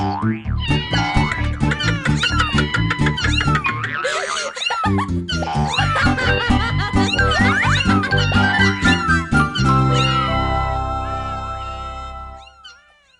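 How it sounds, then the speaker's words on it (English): A litter of seven kittens meows over and over in high, rising and falling calls, mixed with cartoonish boing effects and steady musical backing that continues loudly before fading out near the end. "Carlos has too many kittens."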